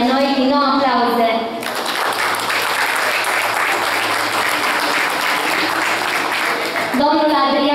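Audience applause at the Dumbrăvița folk music festival in Romania, a loud steady burst of clapping lasting about five seconds, bracketed by someone speaking before and after.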